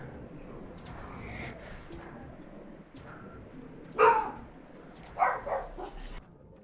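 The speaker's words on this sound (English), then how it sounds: "Dogs went ape." Dogs barking in a Minecraft-style modpack game, with a couple of short, loud yelping bursts rising out of a low background bed of game sound.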